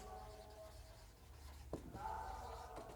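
A pen or chalk scratches across a board during a chemistry lesson, producing faint, brief strokes and soft rubbing in a quiet room.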